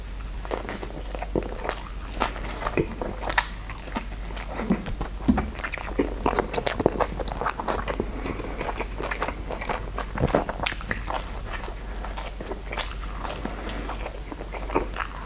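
Someone eats truffle mortadella pizza from Dodo Pizza, with close, continuous crunchy bites and wet chewing sounds over a low background hum and no speech.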